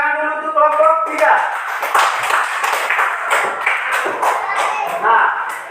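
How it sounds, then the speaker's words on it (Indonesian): Classmates applaud group 3 after their presentation in a school classroom: a dense, steady patter of many hands clapping that holds for several seconds, with a brief voice at the start. "Kita tepuk tangan dulu untuk kelompok 3."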